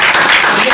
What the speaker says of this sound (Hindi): लगा दो जोरदार ताली